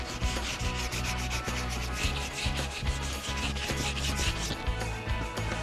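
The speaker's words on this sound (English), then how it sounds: "It's graduations of sandpaper to get it smoother and smoother. This is 220." Steady rhythmic rubbing of 220-grit sandpaper on a Boston Whaler boat's rub rail, close and continuous with repeated back-and-forth strokes, no talking.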